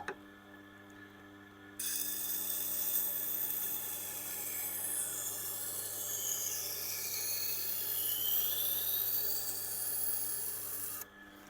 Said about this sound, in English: This is of course the Blackstone wheel, which is not supposed to be used for knife sharpening